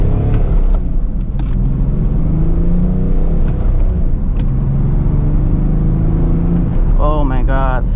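A BMW E61 530d diesel estate with a manual gearbox accelerates on the road, its engine rumbling loud and steady from inside the cabin, with a brief rising whine near the end.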